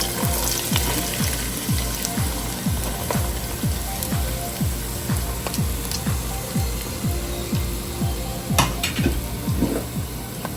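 Small chopped onions sizzle in a pan after a couple of leaves, stirred with a spoon in a prawn curry; a steady hiss runs throughout while regular scraping strokes of the spoon repeat about twice a second, close up.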